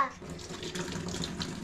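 Water runs steadily from a tap while a child's face is washed, a soft continuous splashing stream close by with a voice briefly heard.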